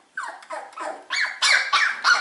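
A Shiba Inu puppy cries from inside a crate in a run of high, whiny squeaks and yelps, about seven separate bursts that grow louder and more insistent toward the end, close by with no talking.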